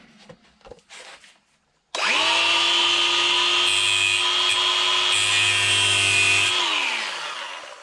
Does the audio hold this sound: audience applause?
no